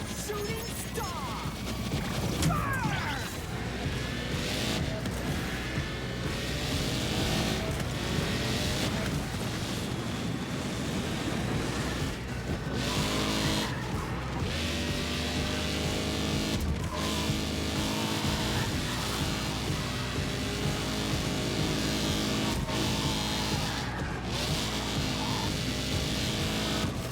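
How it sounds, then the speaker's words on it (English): Race car in the Screamer driving game roars continuously along a road course, engine tones rising and falling through gear changes with occasional scrapes and skids, loud and unbroken throughout. "And now we're driving as Dirk, Route 1N."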